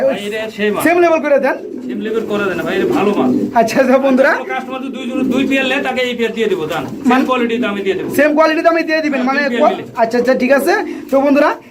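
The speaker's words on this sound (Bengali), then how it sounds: "এই যে এখানে রয়েছে আরেক জোড়া বোম্বাই কবুতর" A pair of Bombay pigeons coo softly and repeatedly in the background at a pigeon seller's while someone talks steadily over them nearby.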